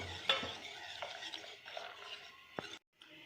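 Half a portion of cream being mixed into already thickened milk in a pan, with soft scraping stir strokes and a few light utensil taps against a quiet background, ending in brief silence.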